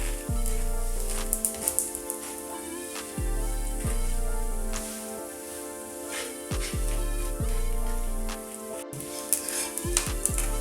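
Masala dosa sizzling in a light coating of oil on a hot pan, with a soft steady crackle under looping background music and scattered louder spatters.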